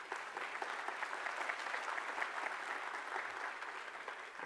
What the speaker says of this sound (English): of course, the applause is not for me, it's for you